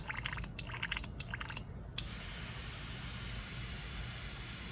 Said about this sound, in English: Just keep spraying it on out.